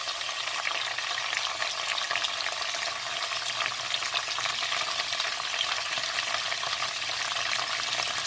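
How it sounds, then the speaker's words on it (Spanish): Sausages sautéing in a pan for a spicy Korean-style Vienna sausage stir-fry, with a steady, loud sizzle and frying crackle throughout and no talking. "que se sofrían un poco las salchichas"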